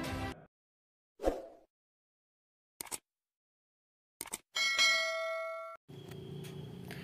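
Notification-style bell dings: a few separated clangs and chimes with silent gaps, then a sustained ringing tone and a final fuller ring, no speech.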